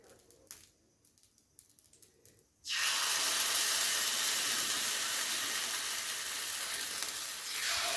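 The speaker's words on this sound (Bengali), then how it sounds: "তো এইভাবেই আমি বাকি পিঠেগুলো ভেজে নেবো এক এক করে।" Chitoi pitha frying on a gas stove: after a few quiet seconds with faint clinks, a loud, steady, hissing sizzle erupts suddenly and holds close and strong to the end.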